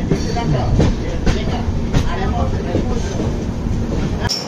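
Vistadome coach train rolling along the Vizag to Araku line near Srungavarapukota, a steady loud rumble with repeated rail clacks throughout, ending in a sharp change of sound.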